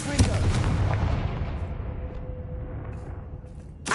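Fiery Confringo spell blast in the video game Hogwarts Legacy on PS5: a loud explosive boom at the start that rolls off into a long fading rumble, with a second sharp burst right at the end.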